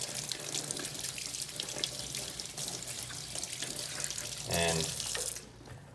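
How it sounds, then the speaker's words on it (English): Fresh tap water runs steadily as Scubapro second-stage scuba regulator parts are rinsed clean of soap, a constant close splashing hiss that swells briefly near the end before dropping off. "I'll just wash off these with fresh water,"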